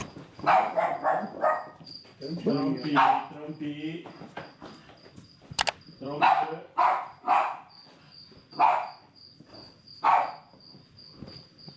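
A big dog barks repeatedly outdoors in Orania, South Africa, with loud, close woofs in uneven clusters over several seconds, insects chirping steadily in the background and people talking in between.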